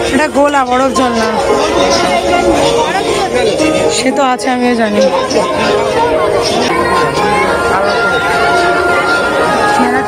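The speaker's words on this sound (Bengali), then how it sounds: "মেলাটা আজকে প্রচন্ড ভিড়।" A packed village fair during a Shyama puja buzzes with crowd chatter and babble, with nearby voices talking over the continuous hubbub.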